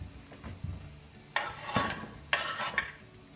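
A knife dicing zucchini into cubes on a cutting board, a few soft taps followed by two louder, scraping chops, close and crisp with no talking.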